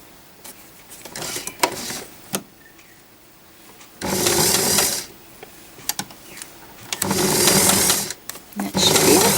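A sewing machine stitching around the heel of a Christmas stocking runs in short, loud bursts of whirring separated by pauses with quiet clicks and fabric handling, the stitching easing on and off.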